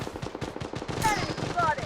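Automatic gunfire in the Blood Strike shooter game, rapid evenly spaced shots rattling in a burst, then a brighter zinging effect midway as firing continues, with a short game voice line over the top.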